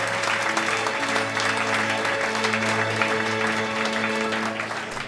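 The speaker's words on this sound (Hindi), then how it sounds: "उनकी हौसला अफजाई के लिए तालियां हो जाए।" Audience applause welcoming a guest singer invited to perform, with a steady wash of clapping under sustained background music tones, holding level for about five seconds.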